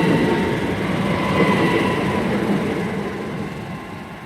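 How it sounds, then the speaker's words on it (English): Two coupled Great Western Railway Class 387 electric units pass at Pangbourne, a loud, steady rumble and rush of wheels and motors that holds for several seconds before easing slightly. "143 and 159 heading on the Great Western Railway service, double pairing of 387s to Didcot Parkway"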